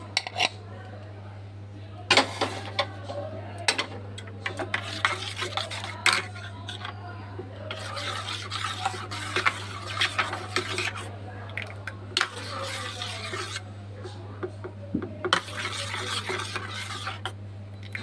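A spoon stirs milk with cardamom in a pot, giving quiet scraping and clinking strokes in irregular bursts over a steady low hum, close and fairly soft.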